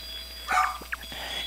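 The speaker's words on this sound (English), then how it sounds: "Stop with all that barking." A dog gives a few short barks and yips at moderate distance over a steady background hum, with the barks loosely spaced.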